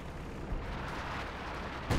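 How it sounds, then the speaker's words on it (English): A major artillery strike in a strategy video game tournament match: a dense, continuous rumble of distant blasts with a heavier boom near the end, and no talking. "We have some strike coming. Oh, we have recon coming on in. And a major artillery as well."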